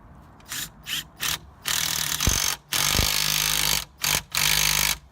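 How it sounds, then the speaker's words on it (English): A socket ratchet snugs a nut on a newly fitted coilover shock, giving several loud close bursts of rapid clicking separated by short pauses, with no talk over it. "Just get a socket on that and just nip that up."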